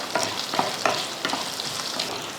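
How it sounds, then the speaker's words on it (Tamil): Peanuts, roasted gram, green chillies and curry leaves sizzle loudly in a pan as a spoon stirs them, with repeated scraping strokes over a constant crackling fry and no voices. "காரத்துக்கு ஒரு 4 பச்சை மிளகாய், கொஞ்சம் கருவேப்பிலை சேர்த்துக்கலாம். சேர்த்துட்டு இதை வதக்கிடுவோம்."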